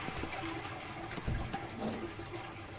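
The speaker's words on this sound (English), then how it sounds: "Flush the toilet!" A toilet flushing in the video game Internet Cafe Simulator 2, a steady rushing of water lasting a few seconds with faint tonal game sounds underneath, no voices.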